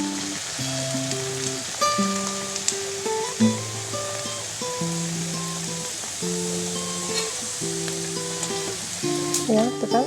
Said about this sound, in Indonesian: kalau goreng cireng seperti ini, itu dia cepat sekali panasnya